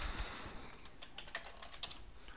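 Rapid clicking of keys on a computer keyboard as a name is typed, a quiet, irregular run of taps continuing throughout.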